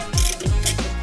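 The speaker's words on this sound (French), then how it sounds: "un petit cliquet, une douille de 13" Ratchet fitted with a 13 mm socket working bolts on a Citaro city bus, a short run of two or three quick, close mechanical clicking strokes.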